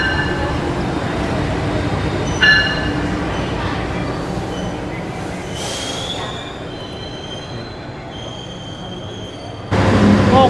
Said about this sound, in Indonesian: ini kereta api komuter lain Supas telah masuk di stasiun Probolinggo, masuk jalur 2